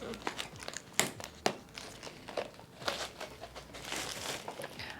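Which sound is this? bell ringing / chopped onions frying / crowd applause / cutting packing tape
cutting packing tape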